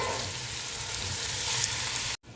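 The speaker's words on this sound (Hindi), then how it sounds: "बस इसको हमने थोड़ा सा इसके साथ भून लेना है चिकन को, ताकि ये अच्छे से गोल्डन हो जाए।" Chicken being browned with masala in a pot for zafrani chicken pulao, a steady loud sizzle and fry running without pause before cutting off abruptly near the end.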